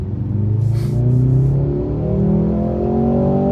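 A Mercedes-Benz C43 AMG accelerating hard on an open road, its engine note rising steadily in pitch as it pulls through the revs, loud and close with a brief breathy burst early on.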